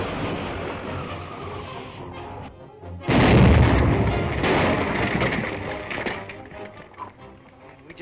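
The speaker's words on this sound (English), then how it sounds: "Spider will think we've been killed by the explosion" A house blowing up in a 1937 Dick Tracy serial: one sudden loud blast after a quieter passage, its rumbling roar sustained for several seconds before fading.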